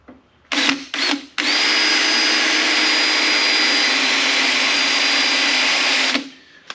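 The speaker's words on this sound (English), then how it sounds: "Maybe I can drill that out." A power drill drilling out a spot weld on a 1956 rat rod whines in two short bursts, then runs at a steady high-pitched drone for about five seconds before stopping, loud and close.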